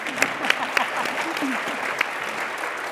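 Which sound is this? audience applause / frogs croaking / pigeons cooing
audience applause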